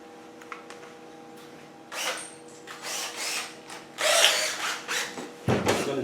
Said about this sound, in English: I'm going to drill it.